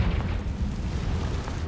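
A Confringo fire blast from Hogwarts Legacy rumbles as a steady, deep, roaring burst, loud and close, with no voices over it.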